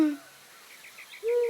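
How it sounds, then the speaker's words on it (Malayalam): An owl, called a bird of omen, gives two clear hoots at the start and end, with fainter chirping bird calls in between. "ശകുന പക്ഷി, ഇനി എന്തൊക്കെയാണാവോ നടക്കാൻ പോകുന്നേ."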